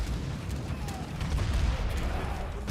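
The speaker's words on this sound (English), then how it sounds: "Zero sent another batch of heavy cannon from the consulate" A heavy cannon fires in a video game with a dense, rumbling barrage of booms and explosions that keeps going without a break under a busy battle din.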